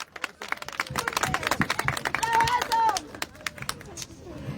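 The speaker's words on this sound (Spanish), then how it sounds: "Y ese fuerte aplauso de todos ustedes." An audience at an evening folk gathering claps in scattered, uneven bursts, close by, with voices talking and calling over the applause.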